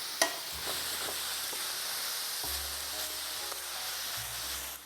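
Mushrooms and onions cooking in a pan with no oil, a soft steady low sizzle with occasional light taps and a faint hum in the background, quiet throughout and without speech.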